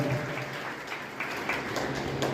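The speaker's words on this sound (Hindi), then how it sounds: "तालियां बजती रहे" Soft, steady audience applause at an award ceremony, a muffled wash of clapping heard from a distance with a low hum underneath.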